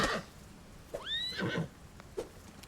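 A horse in the video game Pathfinder Wrath of the Righteous gives one sharp, rising whinny, with scattered clip-clop thuds and combat noise around it.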